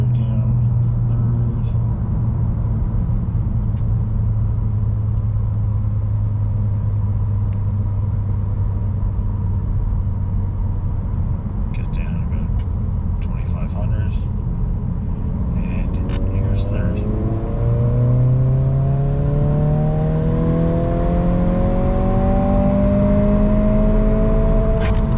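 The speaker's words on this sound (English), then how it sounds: "we're going to do a third gear roll" A 2022 Honda Civic Si pulling a third-gear roll: steady loud engine drone and road rumble from inside the car, the engine note climbing smoothly in pitch through the second half as it accelerates.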